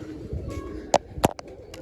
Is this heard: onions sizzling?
no